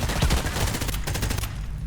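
Gunfire in the video game Hired Ops comes as a rapid burst of automatic shots, loud and close, firing in quick succession before tapering off.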